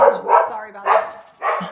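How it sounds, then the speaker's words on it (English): A pet dog named Spike gives a few loud, close barks in quick bursts, with a short apology spoken over the end. "That's my dog."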